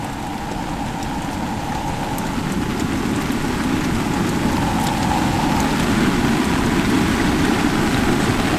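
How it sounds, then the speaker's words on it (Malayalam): A steady downpour drums heavily on surfaces nearby, a loud continuous wash of rain with a faint low rumble beneath. "കാരണം മഴ ഹെവി ആയിക്കൊണ്ടിരിക്കുകയാണ്"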